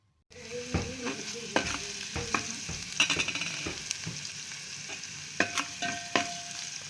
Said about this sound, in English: So you fry your onion until it's brown.